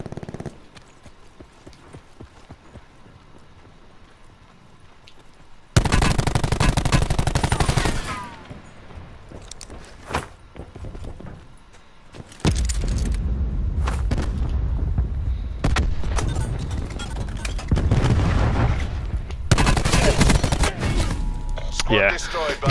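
Bursts of automatic gunfire in the Call of Duty Black Ops 4 Blackout battle-royale mode, long loud rapid volleys close by, broken by quieter gaps, with a player talking over parts of the action.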